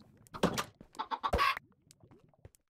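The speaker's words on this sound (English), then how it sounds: "Why are you putting chickens in here?" Chickens clucking in the video game Minecraft, in the Hexxit modpack: a close, lively burst of several cackling clucks in quick succession, fading into a few softer clucks, with no talk.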